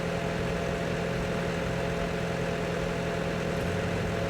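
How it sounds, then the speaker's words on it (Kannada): A farm tractor idles in place, giving a steady, low, continuous engine drone with an even hum that holds unchanged throughout, with no voices over it. "ಇದೊಂದು ಟ್ರ್ಯಾಕ್ಟರ್ ಅದು ನೋಡ್ರಿ,"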